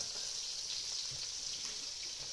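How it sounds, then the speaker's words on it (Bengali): Koi and shing fish frying together in oil under a splatter strainer, a faint, even hiss of sizzling with no talking. "কই মাছের সাথে রয়েছে কিছু পরিমাণে শিং মাছ, সেগুলোকেও আমরা একসাথে ভেজে নেব।"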